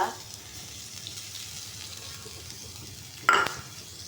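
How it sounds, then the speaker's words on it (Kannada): Mustard seeds and coriander leaves frying in a pan give a steady, soft sizzle up close, broken near the end by a brief louder clatter of a utensil against the pan. "ಸಾಸಿಮೆ ಫ್ರೈ ಆಯ್ತು ಬೊಕ್ಕ ಕೊತ್ತಂಬರಿ ಸೊಪ್ಪುಲ"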